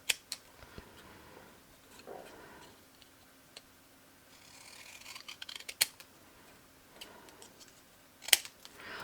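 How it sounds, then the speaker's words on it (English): Scattered snips and crisp clicks of long scissors working through paper, soft and close, with a longer rustling cut in the middle and a sharp snip near the end. "Long scissors and you can do that kind of thing."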